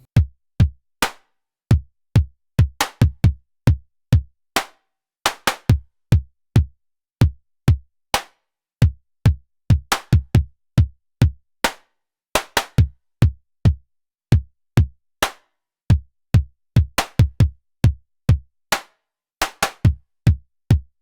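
A slow electronic drum pattern plays alone on a Nord Drum 3P, with deep kick thumps and sharp clicking hits repeating in a steady, sparse rhythm.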